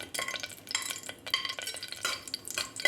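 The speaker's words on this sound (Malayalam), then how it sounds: "എണ്ണ ചൂടായി വന്നിട്ടുണ്ട് ഇതിലേക്ക് നമുക്ക് ഹോൾ സ്പൈസ് ഇട്ട് കൊടുക്കാം" Whole spices dropped into hot oil in a pan, sizzling and crackling in short bursts, with light scraping and stirring against the metal close by.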